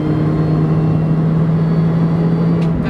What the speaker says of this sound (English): You got some nice supercharger whine from the front,